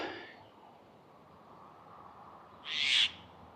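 A myna bird calls from a treetop pole outdoors in Innisfail, Australia, giving a single short, bright call, moderately distant over quiet ambient background.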